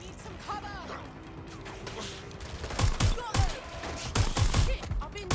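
Gunfire in the video game Watch Dogs: Legion comes as several sharp, loud bursts of shots in quick clusters, mixed with clanks, impacts and voices from the game.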